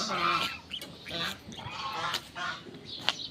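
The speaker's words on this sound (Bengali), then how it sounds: "বিশাল বিশাল তিন দুইটি রাজা হাঁস" Faint geese honking at a distance, scattered nasal calls blending with soft outdoor noise and murmuring.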